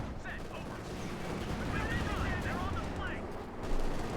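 Tank gunfire in Company of Heroes 2, a Panther engaging amid a faint, dense rumble of battle fire under ongoing commentary.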